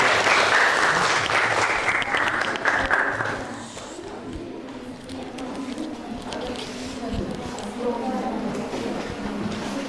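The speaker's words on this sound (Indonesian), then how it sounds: "Tepuk tangan untuk teman kelompok pertama." Classroom applause for the first student group as they come forward, loud and dense at first, then easing into lighter scattered clapping mixed with chatter.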